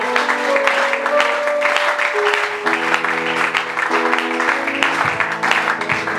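A church congregation at a miracle and healing service cheers and claps steadily in praise of the Lord, a loud dense wash of applause over sustained music tones throughout.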